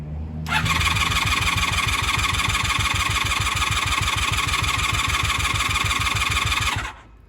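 A 1996 Honda Magna VF750CD motorcycle engine cranks with a steady rapid chugging rhythm for about six seconds, loud and close, then cuts off without clearly catching.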